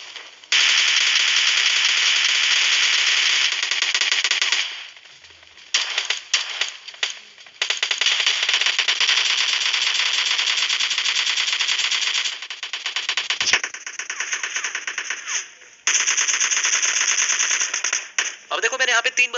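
Gunfire in a PUBG shooter video game, with long bursts of rapid automatic fire, short pauses, then more sustained rattling shots, loud and dense throughout.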